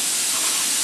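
A steady, loud, close hiss from a cutter slicing through the rusty chassis of a Shoebox Ford truck, continuous and unbroken throughout.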